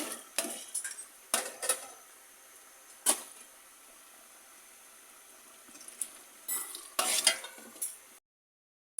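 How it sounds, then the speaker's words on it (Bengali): Mutton biryani with potatoes and ghee stirred in a large pot, irregular loud metallic scrapes and clanks of the ladle over a faint sizzle, with quiet gaps between strokes. "এই দেখেন শেষ আলু দেওয়া হচ্ছে ভালো করে নেড়ে চেড়ে ঘি ছড়ানো হচ্ছে"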